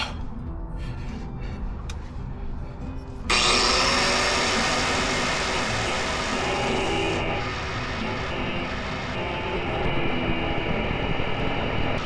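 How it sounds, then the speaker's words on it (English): A power drill bores through a part of a truck's cat-back exhaust during installation, starting abruptly after a quieter moment and then whining steadily and loudly for several seconds with a grinding edge. "so I'll just drill through that bitch"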